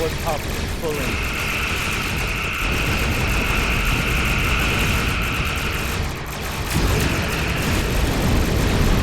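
Starship engine hum in Star Trek Online, a steady drone with a bright sustained tone rising in at about one second and holding, over a busy, dense background that swells slightly near the end.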